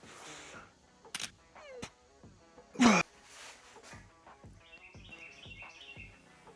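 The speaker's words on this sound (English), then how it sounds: "there's birds in here, man" Small birds chirp and tweet inside a cluttered garage, quick bright calls scattered over a few seconds, mixed with a sharp clank and some knocking and rustling nearby.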